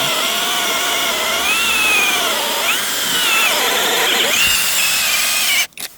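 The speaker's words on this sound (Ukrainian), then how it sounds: "Капець він свердлить класно." A cheap cordless drill whines steadily at close range, its pitch rising and falling under load as it bores through pear wood, throwing out chips, then cuts off abruptly.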